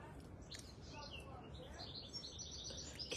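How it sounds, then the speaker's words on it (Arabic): Small birds chirp faintly in the morning, a scatter of high tweets over a soft outdoor background in London, with a quiet voice talking underneath. "كي تسمعي العصافير تزقزق"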